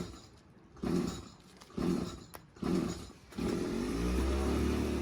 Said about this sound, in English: that you heard there was my uncle getting going with the lawnmower